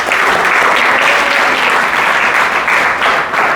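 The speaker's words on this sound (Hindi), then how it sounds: "प्रभु जी के लिए ताली बजाइए।" An audience at an ISKCON devotional gathering breaks into sustained, loud applause for a devotee, the clapping dense and even throughout, with no other voices standing out.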